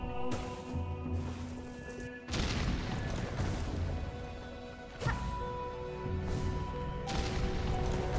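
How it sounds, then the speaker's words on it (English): Two loud, crashing video game explosions burst out a few seconds apart in Hollow Knight: Silksong, each followed by a rumbling, debris-like wash over a steady electronic background. "I heard explosion."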